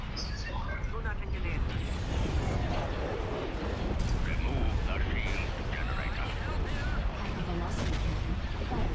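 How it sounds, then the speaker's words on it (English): A hypervelocity cannon fires in a Star Wars strategy game, a dense rumbling barrage of booms and blasts rolling on continuously beneath ongoing battle noise. "Hypervelocity cannon firing."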